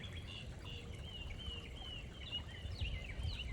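A mockingbird sings outdoors, running through varied mimicked chirps and phrases, thin and fairly distant over a steady background hiss with no talking.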